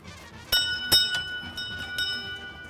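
A doorbell rings with a couple of sharp strikes and lingering metallic tones that fade out, close and fairly clear.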